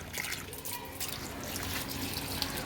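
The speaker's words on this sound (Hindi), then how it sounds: "अब इस अंडे को उठाकर इस साइड में रख देंगे, बस इतना ही पानी देंगे इसमें।" Water is poured onto potted plants, a steady close trickle and splash that runs without a break.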